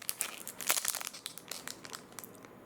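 Foil packs of 1991-92 Pro Set Hockey trading cards are torn and crinkled open close up, giving a quick flurry of sharp crackles and rips in short irregular bursts.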